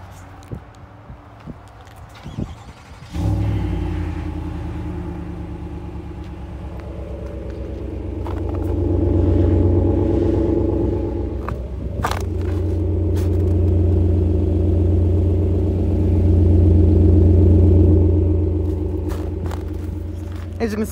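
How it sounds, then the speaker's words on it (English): A 2022 Chevy Suburban Z71 with a 6.2 liter V8 is cold started by remote: a short crank, then a loud deep rumble that swells and settles into a steady idle, with faint talk at times. "Cold start using the remote, which is somewhat unique to the Z71s."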